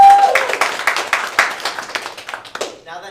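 Audience at an improv comedy show claps for a departing performer, a short burst of distinct handclaps from a modest crowd that tapers off within a few seconds.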